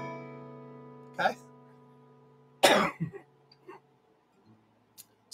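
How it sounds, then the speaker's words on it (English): Two sharp coughs, the second louder and followed by a few smaller ones, heard close over a fading sustained chord. "still got a little bit of a lingering cough here"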